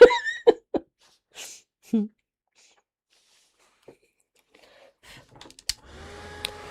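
A handheld hair dryer blows on hair in a beauty setting, switching on loud and steady only in the final second after a mostly quiet stretch that opens with brief bursts of talk.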